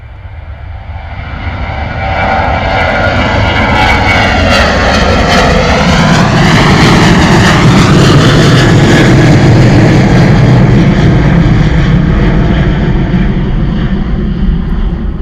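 An airliner taking off down runway 09 at Bristol Airport, its jet engines swelling from a rising rumble into a loud, sustained roar that peaks mid-way and holds, with no talk over it.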